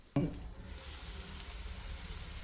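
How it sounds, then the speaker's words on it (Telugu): Brinjal kurma curry with tomato gravy cooking on the stove, a steady close sizzle and bubbling from the pan after a brief clatter at the start, continuing evenly with no talking. "మూత పెట్టి రెండు మూడు నిమిషాలు ఉడకనివ్వాలి"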